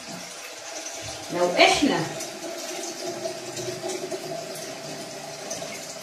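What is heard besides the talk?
pouring hot water from the home water heater into dough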